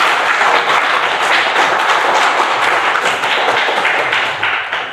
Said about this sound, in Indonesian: mari kita tepuk tangan untuk